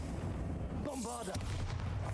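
A Bombarda blast spell goes off in a Harry Potter video game as a muffled boom rolling over a rumbling backdrop, with a voice briefly speaking over it.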